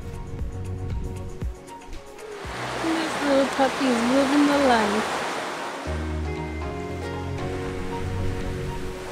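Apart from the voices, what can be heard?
ocean waves on beach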